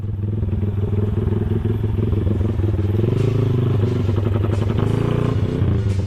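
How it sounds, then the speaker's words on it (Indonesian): Kawasaki Ninja SS two-stroke motorcycle idling rough with a flooded carburetor, a loud, close, uneven throbbing putter that rises in one brief burst of revs partway through. "Helikopteran nek karbu bar banjir ngono kuwi."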